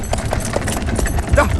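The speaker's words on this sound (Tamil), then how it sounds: "நீ குதிரையை கிளப்பு" A horse's hooves clip-clop in a rhythmic patter as it sets off in a Tamil comedy scene, mixed with people talking.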